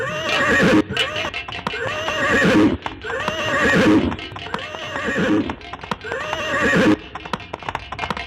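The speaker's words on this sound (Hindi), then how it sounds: "राजन आपका घोड़ा आपका इंतजार कर रहा है।" A horse neighs repeatedly in loud, close whinnies while its hooves clip-clop steadily underneath, the calls recurring every second or so over the hoofbeats, with no talking.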